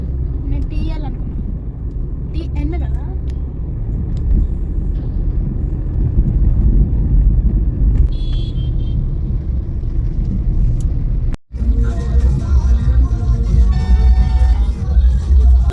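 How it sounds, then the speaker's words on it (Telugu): Heavy night-time city traffic near a market in Hyderabad, with lorries passing: a steady loud rumble of engines and road noise throughout, with voices talking over it, a brief dropout, then a brighter burst of horns and bustle. "ఫుల్ హెవీ ట్రాఫిక్ అయిపోయింది"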